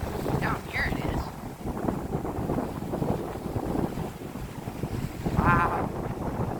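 Strong wind at an Atlantic Ocean shore at Herring Cove, a steady roar of gusts buffeting the microphone, with a voice talking over it and a short whistling burst near the end.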